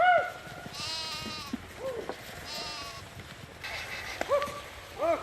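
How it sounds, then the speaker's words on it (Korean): A herd of sheep and goats driven by Mongolian nomads bleats repeatedly in a stony mountain valley in freezing, snowy conditions, with many overlapping calls near and far over a constant rushing background. "돌이 많은 계곡이 나오자 당황한 양 염소들이 우왕좌왕"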